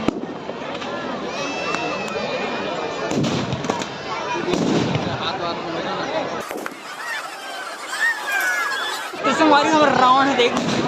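Firecrackers bursting inside a burning Ravan effigy at a Dussehra Ravan Dahan event, a dense crackling and popping roar with crowd noise and people talking close by.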